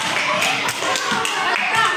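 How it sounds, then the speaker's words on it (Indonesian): Classroom applause for a group of elementary pupils, a burst of scattered hand clapping from many children, fairly close, with voices mixed in. "tepuk tangan untuk kelompok 3 yang mendapat ini"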